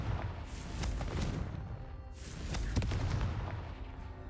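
Repeated Confringo fire-spell blasts in Hogwarts Legacy on PC, several loud booming bursts in a row with a rumbling tail behind them, with no talking.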